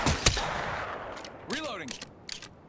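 Gunfire from the video game Apex Legends: a sharp burst of shots near the start, then a sweeping weapon or ability effect and a few more scattered shots, with game sounds throughout.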